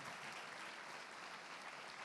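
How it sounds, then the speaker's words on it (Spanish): A church congregation applauding steadily, a dense and even wash of many hands clapping, heard at a moderate distance. "dale un aplauso a Dios"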